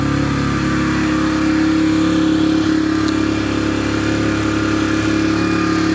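A cold Yamaha TTR 125 dirt bike engine idles steadily while warming up after a carburetor clean and rebuild, a close, continuous mid-pitched putter with no speech over it.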